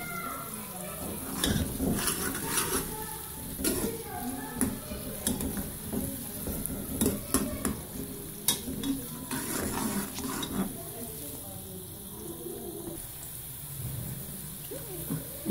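Browned onions frying with ginger garlic paste and packet nihari masala for beef nihari, with an uneven sizzle broken by repeated scraping and stirring bursts, and some talk in the background.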